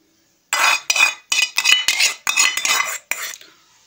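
A spoon mixes beaten egg into kebab masala made with tinde (apple gourd) in a bowl, scraping and clinking against the dish in a series of about eight quick, close strokes, with no talk.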